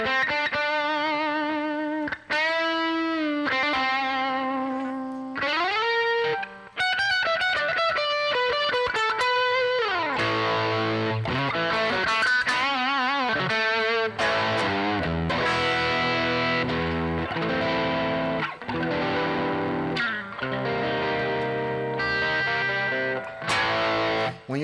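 Electric guitar with an edge-of-breakup overdrive tone, through effects with some chorus and reverb, played alone in continuous melodic lines and chords, loud and close throughout.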